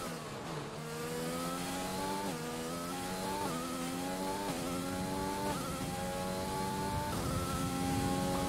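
A Williams Formula 1 car's engine in the F1 2020 video game drones steadily, climbing through the revs and stepping through rapid gear shifts over and over, with no talk.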